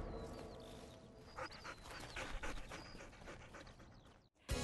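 A dog pants rapidly and close, with quick breathy rhythmic puffs, a few faint whimpering squeaks, and a brief sharp break in the sound near the end.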